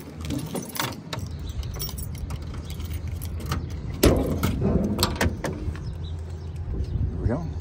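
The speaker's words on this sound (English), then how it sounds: "Grab the key again, we'll open up the trunk." Keys jangle while the trunk of a 1981 Pontiac Trans Am with original sheet metal is opened, with a sharp clunk midway and scattered rattles and handling noises under low background rumble.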